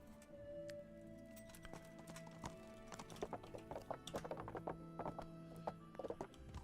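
A horse's hooves clip-clop in the medieval video game Kingdom Come: Deliverance, starting sparse and building into a quick, irregular rhythm of close, crisp hoof strikes over a faint musical background.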